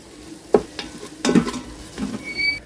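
Chicken masala being sautéed and stirred in a NutriCook Smart Pot 2, giving a few soft, scattered scrapes and light sizzling bursts at close range, with no voices.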